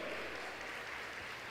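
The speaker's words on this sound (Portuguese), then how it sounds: "Se é para ele esse aplauso, precisa ser mais forte" Church congregation applauding, a dense steady wash of clapping that sounds distant and fairly faint, with no voices over it.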